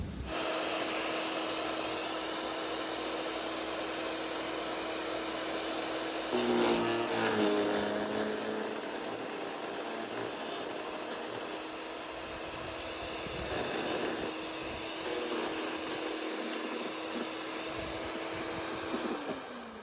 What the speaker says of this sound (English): So you can see it feeds it into the chipper blades pretty much all by itself.